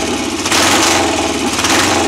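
BSA A65 Hornet motorcycle engine, a twin previously a non-runner and firing mainly on one cylinder, running loud and close with a rough, steady mechanical rumble throughout.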